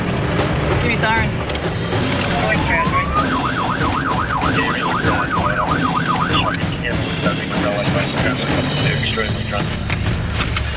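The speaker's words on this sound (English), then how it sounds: "Give me siren" A police car siren wails with a sweeping, oscillating tone during a pursuit through back streets, heard for several seconds over loud engine and road rumble and a busy radio and voice backdrop.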